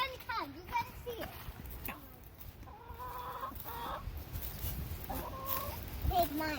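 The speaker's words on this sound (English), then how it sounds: "the chickens are going to probably come in because they want to know what's going on" Several chickens cluck and squawk in short bursts nearby, mixed with children's voices talking in the background.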